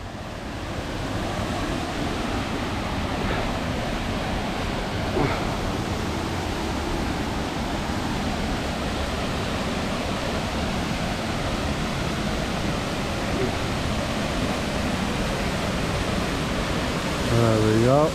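Rushing water from a multi-tiered waterfall in Thailand, heard near the pools as a steady broadband roar with some splashing that continues unbroken throughout.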